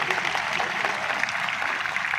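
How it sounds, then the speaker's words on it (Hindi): An audience applauds to welcome a guest at a Birsa Brigade Adivasi rights council foundation-day gathering in Seoni: a steady, dense wash of clapping that holds at even strength throughout. "इनका जोरदार तालियों से स्वागत करें"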